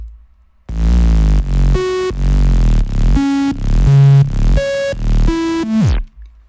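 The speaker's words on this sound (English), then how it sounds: "This bass notes we just put an octave higher" Synth bass raised an octave plays a punchy run of about ten separate notes that shift in pitch in a steady pulse, loud and alone, ending in a quick fade.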